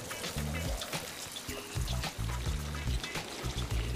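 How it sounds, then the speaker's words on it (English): Wet stucco slurry pours onto paper on a drywall factory line, a steady gushing, trickling flow with heavy low churning and wet splashes, continuous and close amid machinery rumble. "After mixing the stucco with water, a dense layer is smoothed onto the paper."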